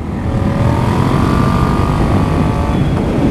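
A 2018 Yamaha MT-07 motorcycle being ridden gives a loud, steady engine drone with a slight rising whine, smothered in constant wind rush and with no talking.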